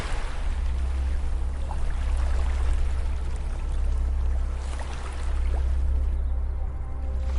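Gentle ocean waves wash steadily onto a beach in a continuous broadband rush with soft swells, a low constant rumble beneath, and no voices.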